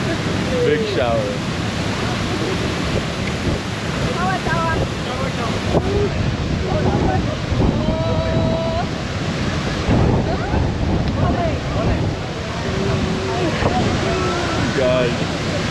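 A continuous heavy roar of water comes from the Ouzoud Waterfalls in Morocco, with some wind buffeting and scattered voices chatting over the steady wash.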